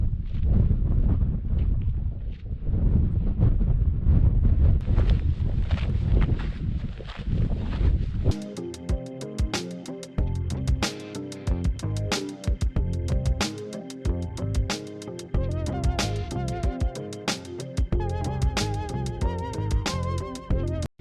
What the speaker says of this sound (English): Wind is picking up significantly.